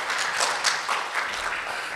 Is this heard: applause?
yes